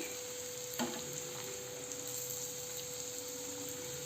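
Karjikaya, sweet stuffed pastries, frying in hot oil: a quiet, steady sizzle and bubbling runs throughout, with a brief sharp crackle near the start and no talking.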